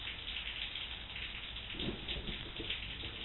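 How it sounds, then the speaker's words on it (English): Steady rain from a storm outside at night hisses continuously, with a low rumble of thunder swelling briefly in the middle. "Got a bit of a storm rolling in tonight outside, so it's chilly and wet outside tonight"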